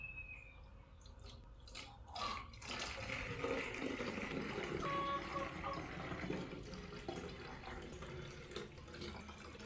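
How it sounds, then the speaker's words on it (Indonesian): Liquid organic fertilizer is poured steadily into a container, giving a continuous watery splashing and gurgling that swells after the first couple of seconds and runs on to the end. "Oke, jadi langsung saja kita tuangkan ke dalam"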